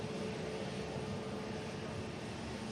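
A Boeing 747 aircraft's engines give a deep, continuous rumbling growl, broad and steady for the whole stretch, at moderate distance with no pauses.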